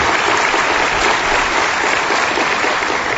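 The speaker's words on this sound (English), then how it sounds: "So if I could get a round of applause for the staff at the Chamber." A loud, dense round of audience applause for Chamber staff at a city State of the City address, continuous broadband clapping filling the whole stretch with no talk.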